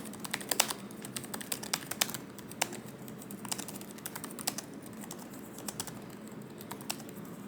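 Laptop keyboard keys on an ASUS machine with Armoury Crate RGB being pressed, a quick irregular run of light clicks and taps, close and fairly quiet, with no talking.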